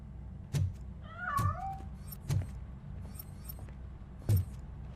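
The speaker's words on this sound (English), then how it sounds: "That cat must be hiding inside." A cat in the video game RoboCop: Rogue City gives a single short meow, surrounded by a few dull thumps spaced through a quiet background.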